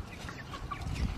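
Chickens clucking softly nearby, low murmuring calls with a couple of slightly louder clucks toward the end, no voices.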